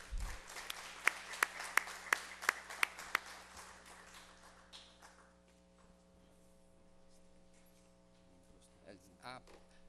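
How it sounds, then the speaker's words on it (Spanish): At an education congress, an audience gives a welcoming round of applause. About seven sharp, evenly spaced claps stand out over the first three seconds, then fade into quiet room noise with faint movement. "Les pido pues para el doctor Tamayo un aplauso de bienvenida."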